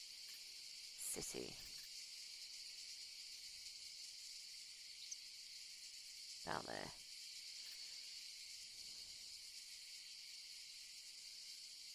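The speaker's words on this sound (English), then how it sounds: "cicadas are so loud." Cicadas in the video game Scum keep up a loud, steady, high chirring drone across the whole stretch, with a couple of brief spoken words breaking in over it.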